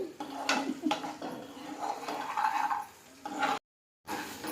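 Spicy chicken pickle mixture stirred in a pan with a spoon, producing soft scraping and clinking of utensil against metal, intermittent strokes at close range, with a brief silent gap near the end.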